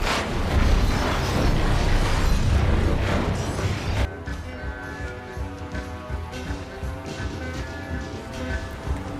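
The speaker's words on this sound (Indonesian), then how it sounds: "Jimmy menekan tombol pemicu dan meledakkan gubuknya" A hut blown up by a detonator in the film Bullet to the Head: a loud, dense blast and roar lasting about four seconds, then cutting abruptly to a quieter musical passage.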